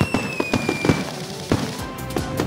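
Fireworks crackle and pop in the Car City World mobile game, a dense, loud burst of sharp cracks and bangs with a faint whistling tone running through it.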